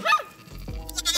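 Newborn lambs on a farm bleating close by, a short plaintive cry followed by a longer wavering bleat, loud and near, with a quick bark-like sound mixed in.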